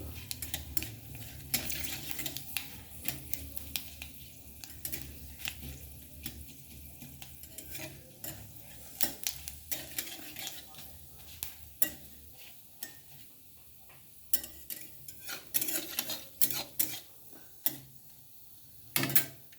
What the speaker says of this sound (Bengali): পাঁচফোড়নটা একটু ভাজা ভাজা হোক